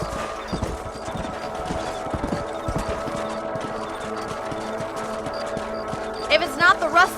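Horse hooves clip-clopping at a steady gait on open ground in a Western video game, a moderately loud rhythmic clatter with game ambience underneath and a brief sharper sound near the end.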